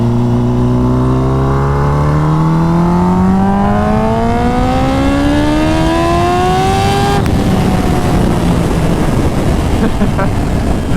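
A Kawasaki H2R motorcycle engine revs up hard under acceleration, its rising whine climbing steadily for several seconds before a gear change, with loud wind rush throughout.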